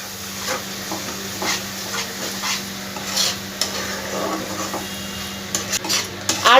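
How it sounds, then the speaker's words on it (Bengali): Yogurt is stirred into a spice masala in a pan over low flame for a shola kochu curry, with a soft sizzle under repeated scraping spoon strokes and light metallic clinks, close and steady without talk. "আস্তে আস্তে মশলার সঙ্গে দইটা আমি মিশিয়ে নেব।"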